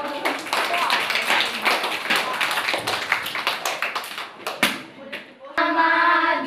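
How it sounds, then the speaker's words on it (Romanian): An audience claps steadily for a kindergarten child at a kindergarten performance in Arad, a dense patter lasting several seconds before fading. A brief sustained musical tone follows at the end. "hai să-l aplaudăm"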